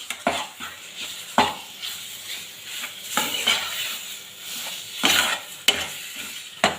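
Wheat and moong dal being stirred and mixed together in a pan for Ashoka halwa, with a soft continuous sizzle broken by sharp spoon scrapes and clinks against the metal every second or so.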